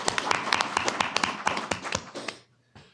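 A small audience at a city council meeting gives a brief round of applause, a few distinct hand claps in a quick uneven patter that dies out abruptly after about two seconds, followed by a faint tap.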